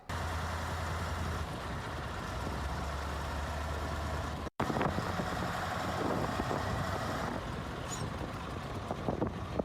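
Steady, loud diesel truck engine drone with a low rumbling hum, briefly cut off midway and then resuming with added rattling clatter.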